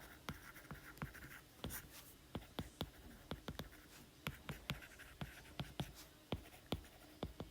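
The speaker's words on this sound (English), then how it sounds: "I'm just going to write on here window." Pen or pencil writing on paper during a math homework walkthrough, with quick taps and short scratchy strokes in an irregular rhythm, quiet and close with no talking.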